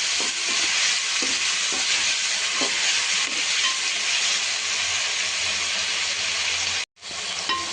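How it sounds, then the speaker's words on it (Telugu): Finely chopped tomatoes frying in a pan for egg Maggi, a dense, steady hissing sizzle with faint stirring taps, close up, cut briefly near the end. "ఈ టమాటా వేసుకున్నాం కదా, మనకి చక్కగా మెత్తగా ఫ్రై అయిపోవాలి"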